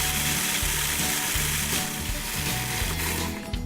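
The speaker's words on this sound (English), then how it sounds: "So this goes into a food processor and then give it a whirl." A food processor whirls double chocolate granola into crumbs, giving a loud, continuous motor roar with rattling, chopping texture throughout, close and without talk.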